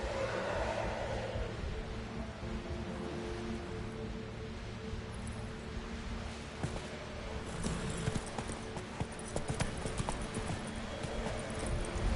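Steady clip-clop of a horse's hooves galloping in The Witcher 3, a continuous rhythmic patter close by with faint ambient background and a rider's brief voice.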